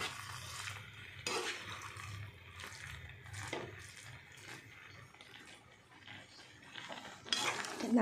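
Curry with garam masala is stirred in a cooking pot, giving faint intermittent scraping and clinking of a utensil against the metal, a few louder strokes spaced a second or two apart over a low background hum.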